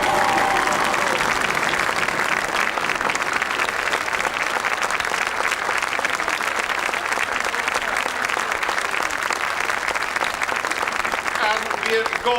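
Loud, continuous audience applause fills the whole stretch without a break, a dense wash of clapping at an amateur theatre performance in Obbicht, 1999.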